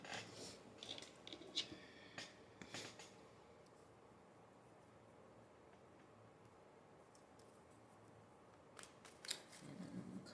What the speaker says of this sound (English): Cut them cards down a little bit.